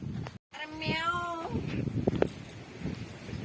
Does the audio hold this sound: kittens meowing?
yes